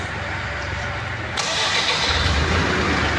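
A diesel vehicle engine, the unit being tested for a faulty cylinder injector, cranks and catches partway through, then settles into a loud, steady idle close by.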